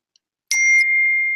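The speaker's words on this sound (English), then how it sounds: "Sorry. That was my phone." A phone notification gives a single bright electronic ding that rings out and holds for nearly a second, loud and close, in an otherwise quiet room.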